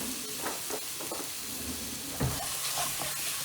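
Chicken livers sizzle in a hot pan, a soft continuous crackle and hiss with scattered pops and spits, fairly quiet and heard alone.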